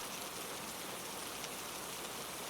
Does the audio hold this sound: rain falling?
yes